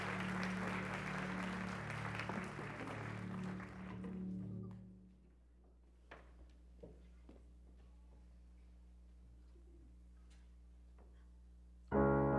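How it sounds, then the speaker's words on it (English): A church congregation applauds during a 10:30am worship service, a full, steady clapping that lasts about four seconds and then fades into a quiet room with scattered small taps and shuffles. "why don't we give our fifth grade one more applause"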